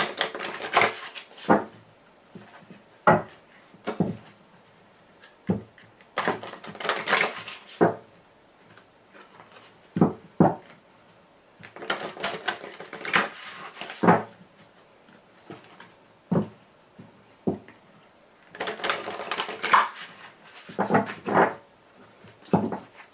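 Very large tarot cards being shuffled by hand, giving irregular bursts of crisp flapping and riffling with short pauses in between, close and moderately loud, with no talking.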